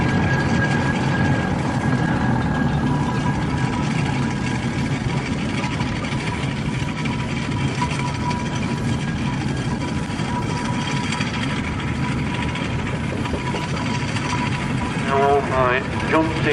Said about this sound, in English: over the period it has actually been converted into a traction engine form